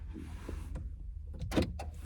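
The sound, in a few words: car parking nearby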